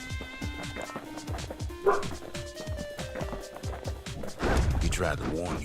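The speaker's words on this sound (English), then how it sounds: "Do you mind, dogs? You're ruining the mood." Dogs bark and yip repeatedly in the video game Bastion, sharp short barks in quick succession under game music and someone narrator's voice.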